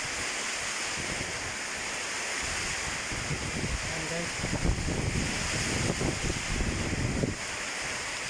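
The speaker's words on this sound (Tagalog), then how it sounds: "Ang lakas ng ulan. Lakas ng hangin guys." Dense, steady roar of heavy typhoon rain with gusting wind filling the whole clip in Northern Leyte, Philippines, while someone talks over it.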